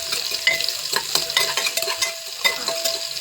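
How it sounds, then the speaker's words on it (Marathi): Finely chopped onion sizzles in oil over crackling cumin seeds, a bright continuous fry close up, punctuated by several quick stirring scrapes of a spoon against the pan. "जिरे थोडेसे तडकले की आता टाकू कांदा. बारीक कट केलेला कांदा."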